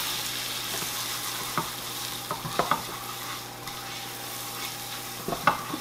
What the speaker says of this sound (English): We're going to keep on stirring this until it browns a bit.